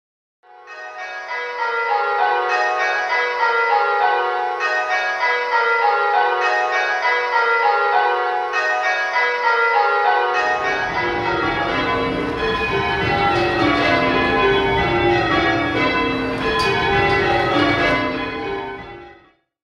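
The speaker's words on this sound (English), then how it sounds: "there is a convention in ringing that we leave a pause at the end of each bar." Church bells rung in rounds in change ringing, a steady descending sequence of clear bell strikes repeating row after row with a brief pause at the end of each, loud and close, with a deeper bell joining partway through.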